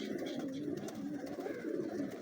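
Pigeons coo softly and continuously at close range, a low throaty burbling that fills the short stretch with faint background rustle.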